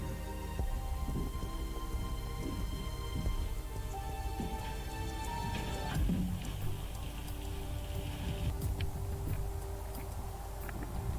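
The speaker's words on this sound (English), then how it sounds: "Insanely strong wind and hail battered us body and spirit." A storm of insanely strong wind and hail on the final stretch of the Kungsleden trail before Hemavan, heard as a loud, steady, close rushing roar of pelting precipitation and gusts that never lets up, with no voices.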